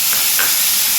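Spice paste hits hot oil for a Bengali green jackfruit curry, giving a loud, steady, close-up sizzle and hiss that fills the whole moment.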